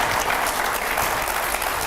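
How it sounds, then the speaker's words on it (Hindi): Loud, steady applause from a crowd, dense clapping continuing without a break throughout. "जोरदार तालियां होनी चाहिए"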